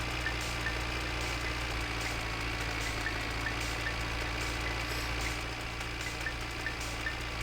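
An old tractor engine in the game My Winter Car rumbles at a steady low idle, a continuous droning hum with a faint knocking texture and no speech over it.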